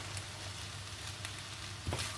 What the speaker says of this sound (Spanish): Vamos a ir removiendo.